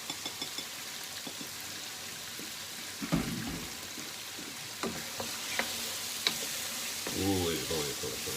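Spices tipped into mutton frying in a pan for aloo gosht, with a steady close sizzle, a few stirring knocks and scrapes, and a louder burst of bubbling near the end.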